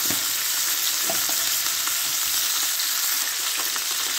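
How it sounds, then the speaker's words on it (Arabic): Bay leaves and cardamom pods frying in hot oil in a pan, giving a steady, close sizzle with faint crackles and occasional light pops throughout, no voices. "هحط لها بقى بصوا معاها كده كام ورقه لورا اهوت، واحط فصين حبهان"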